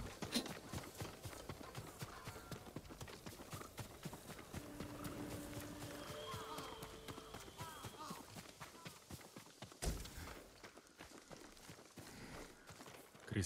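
Hooves of a peasant horse in Ghost of Tsushima clop steadily at a walk, a continuous close rhythm set among game ambience, with brief tonal cues midway and a louder burst near the end.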